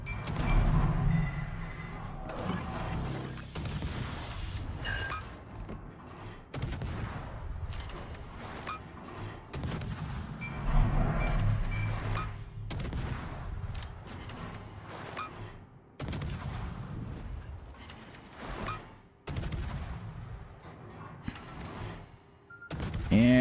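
Naval guns boom during a World of Warships battle, firing at a Kagero destroyer in repeated heavy salvos with deep rumbling blasts and short lulls between volleys, loud and continuous throughout.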